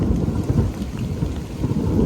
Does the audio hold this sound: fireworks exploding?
no